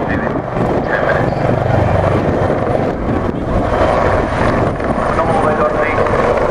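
Royal Navy Wildcat helicopter flying at the RNAS Yeovilton airshow, a loud, continuous rotor and engine roar with heavy wind buffeting on the microphone, while a commentator talks over it.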